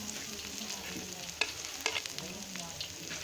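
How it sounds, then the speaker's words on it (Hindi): Onions with tomato and green chilli sizzle steadily in a hot pan, a close, quiet hiss broken by a few sharp clicks and spatula scrapes as the mixture is stirred. "ये अच्छी तरह से हम फ्राई करेंगे।"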